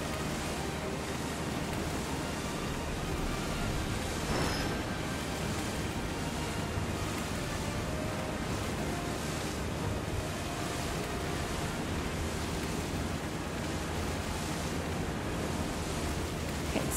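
Open-sea waves and wind surge in a constant broadband roar on the Meridian Ocean in the video game Final Fantasy VII Rebirth, steady and loud with slow swells and no voices.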